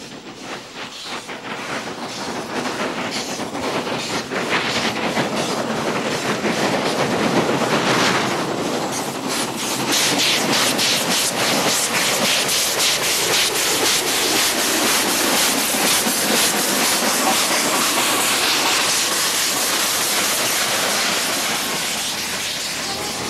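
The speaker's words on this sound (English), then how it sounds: "After refreshment for both passengers and locomotive, the huge garret heads back to Bulawayo." A huge Garratt steam locomotive hauls a passenger train toward Bulawayo, a loud continuous roar of rolling wagons with rhythmic clickety-clack and rubbing, sustained and close throughout.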